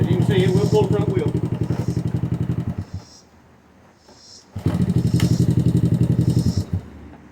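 A Honda ATC70 three-wheeler with a modified TRX90/105 motor runs close by with a rapid, loud, pulsing putter. It drops away briefly and then comes back just as strong.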